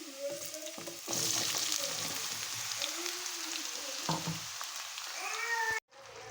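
Bottle gourd pieces sizzle loudly in oil with golden-fried onions and seasoning seeds, a steady hiss with stirring scrapes, while a cat meows repeatedly over it; the sound cuts off abruptly near the end.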